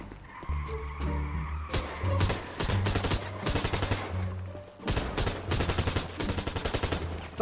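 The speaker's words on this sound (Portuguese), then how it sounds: "Tiro." Rapid gunfire bursts in the GTA RP zombie game FiveZ, loud cracks and volleys repeating across the whole stretch over a low droning background, with no speech.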